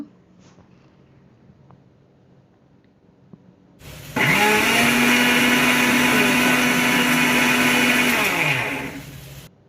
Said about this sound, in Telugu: ఇవి ఫస్ట్ మనం గ్రైండ్ చేసేసుకోవాలి మెత్తగా పొడిలాగా